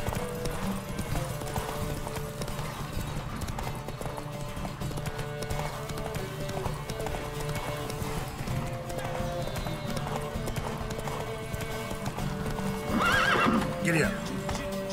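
Horse hooves clip-clop steadily in a gallop in The Witcher 3, with occasional neighs and whinnies over a busy game soundtrack and voices talking.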